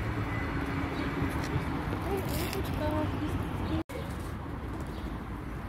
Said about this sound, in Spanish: Pobres palomas, quieren también comer